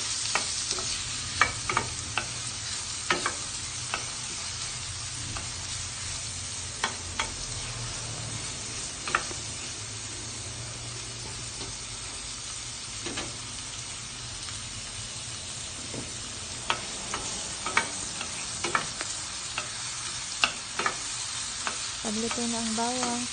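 Half an onion with garlic and ginger sautéing in a pan for squid adobo, a continuous sizzle broken by frequent sharp scrapes and clicks of a stirring utensil over about twenty seconds, close and without speech.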